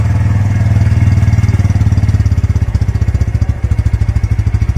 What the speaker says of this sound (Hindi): यहाँ से आप इसके एग्जॉस्ट के नोट को सुन सकते हो